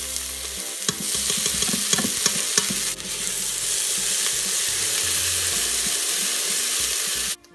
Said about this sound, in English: 2 teaspoons of minced garlic to the pot. Ooh, we need to saute that up.